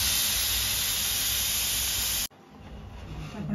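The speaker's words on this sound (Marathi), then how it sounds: "आपण प्रेशर कुकरचा प्रेशर रिलीज करून घेतला आहे" A pressure cooker holding vegetable pulao vents its steam in a loud, steady hiss that cuts off abruptly after about two seconds, followed by quieter background noise.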